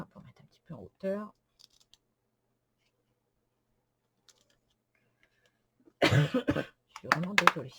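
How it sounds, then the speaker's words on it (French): A woman coughs a few times up close, in short bursts, during a quiet craft session making a bendy window card. "Je suis vraiment désolée de tousser."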